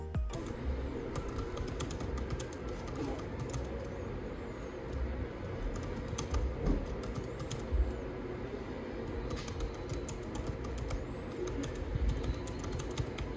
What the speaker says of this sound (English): the keys sound great